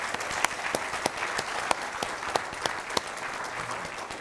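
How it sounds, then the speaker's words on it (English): Applause from a seated audience at a NASA science forum session, sparse and fairly light, with individual sharp claps standing out over a soft background of clapping. "We get another big round of applause for all of our presenters,"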